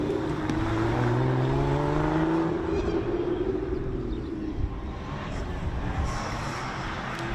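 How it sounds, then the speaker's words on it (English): A red Ferrari F430 rally car powers through a town stage in Strathalbyn, over a bridge by a lake, its engine loud and continuous with rising and falling revs as it passes, faint voices in the background. "a Ferrari F430 in Ferrari red, of course. Flicks it through the Shannon's Kink before going over the bridge, over the lake."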